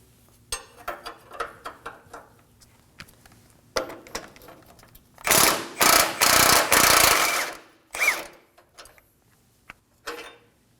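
A ratchet wrench loosens the oil pan beam bolts on a 2017–2024 Nissan Armada. Close, sharp clicking comes in scattered bursts, with a louder stretch of rapid ratcheting in the middle and metallic clinks between.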